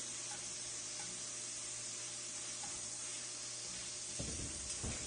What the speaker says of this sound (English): Just a little bit left to braise here